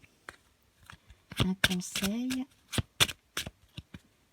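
A deck of Petit Lenormand cards is shuffled and cut close up, with quick riffling flutters and sharp clicking snaps in bursts, while someone speaks briefly among the card sounds.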